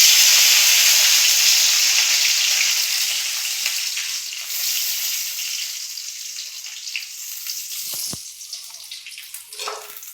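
Bay leaves, dried chillies and five-spice hit hot oil in a kadai, letting out a loud, close, bubbling sizzle that slowly fades, with a brief clink near the end.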